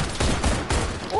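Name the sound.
gunshots in a video game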